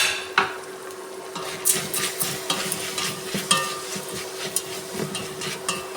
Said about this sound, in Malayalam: പച്ചമണം മാറുന്നവരെ ഒന്ന് വഴറ്റിയെടുക്കാം.